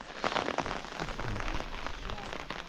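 Rain falling in a village, a dense, steady patter of drops striking surfaces close by, fairly soft and continuous, with no talk.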